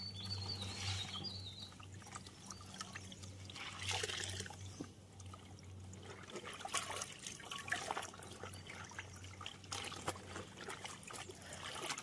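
Water trickles steadily from a pipe at a rural village home, a continuous soft splashing flow with a low hum underneath, fairly close and unbroken.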